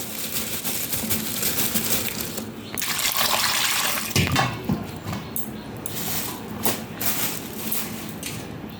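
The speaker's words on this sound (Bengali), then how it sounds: "তুমি এখন এগুলো সব ধুয়ে ভালো করে পুজো করো।" Bananas, dates and other puja fruits are washed under a running tap, giving a continuous gushing splash with shifts as the fruit moves through the stream.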